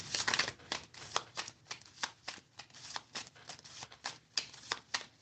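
Tarot cards are shuffled by hand over and over, a steady close riffle of soft papery flutters and taps, quiet and without speech.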